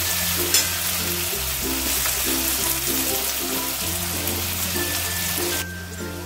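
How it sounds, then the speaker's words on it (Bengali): Two finely chopped onions frying in hot spiced oil in a pan while cooking spinach and coriander chicken, a steady close sizzle with occasional stirring scrapes, no talking. "সেই পেঁয়াজটাকে দিয়ে দিলাম"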